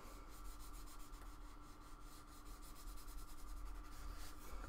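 Soft graphite pencil laying down dark tone on paper, a steady, close scratchy rubbing that continues softly and evenly throughout.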